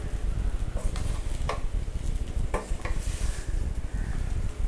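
Rice sevai being tossed and mixed in a pan: steady scraping and clinking of a utensil against metal, with a few sharper taps, close and fairly loud over a soft sizzling bed.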